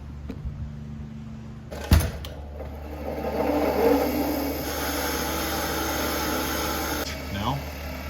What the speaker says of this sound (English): I'm gonna take it over to the wire wheel and just gonna wire wheel it all up nice